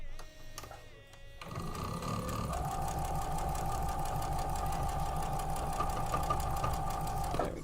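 A home sewing machine runs steadily for several seconds, joining quilt block pieces for an infinity block with a continuous motor hum and needle chatter after a brief start.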